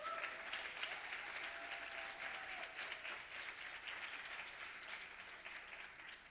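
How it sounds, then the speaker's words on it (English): Steady audience applause at an exhibition opening, a continuous wash of clapping from a moderate-sized crowd that holds for several seconds and fades slightly at the close. "I just want you all to take a moment right now to give them a big round of applause."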